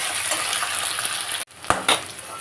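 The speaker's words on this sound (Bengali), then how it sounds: "এবারে ভেন্ডিটা একটু ভালো করে দিয়ে কোনো লবণ হলুদ কিছু দিয়ে এমনি ভেজে নেবো একটু" Sliced okra fries plain in a pan with a steady hiss and sizzle, then a brief pause before a couple of clattering knocks from the pan or utensil.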